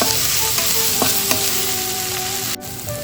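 Drumstick pieces sizzle loudly in a pan with browned onions, a constant close frying hiss with a few stirring knocks, briefly dipping near the end.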